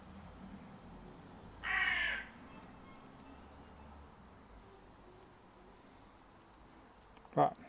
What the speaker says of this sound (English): Nice big old crow.